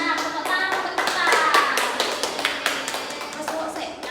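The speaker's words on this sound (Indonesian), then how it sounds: "Tepuk tangan untuk kita." Children clap their hands together in an elementary school classroom, a dense burst of fairly loud overlapping claps with sharp taps standing out near the end, with no talking.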